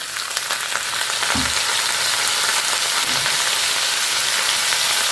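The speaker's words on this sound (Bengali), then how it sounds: "2-1 মিনিট পেঁয়াজটা একটু ভাজা ভাজা করতে করতেই এতে আলুটা দিয়ে দেবো।" Onion and potato frying together in a pan, a loud, continuous sizzle with a couple of soft low knocks of stirring near the start, no voices.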